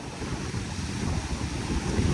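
Ocean waves washing onto a beach at sunset, a soft continuous surf wash with light wind buffeting the microphone, building slightly toward the end, no voices.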